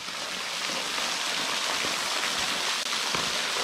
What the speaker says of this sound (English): Very nice little waterfall here.